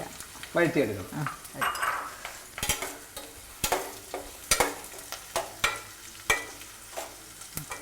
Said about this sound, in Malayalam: ഉപ്പിട്ട് കഴിഞ്ഞാൽ ഈ ഉള്ളി വഴറ്റുമ്പോഴത്തേക്ക് ഉപ്പിട്ട് കഴിഞ്ഞാൽ കുറച്ചുകൂടെ പെട്ടെന്ന് ആ ബ്രൗൺ നിറവും